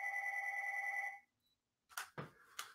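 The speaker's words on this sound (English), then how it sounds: "my phone rings at my house right at the moment I'm doing a live stream" Home landline telephone ringing, a steady electronic tone for about a second that cuts off, followed by silence and then a few short, sharp clattering knocks.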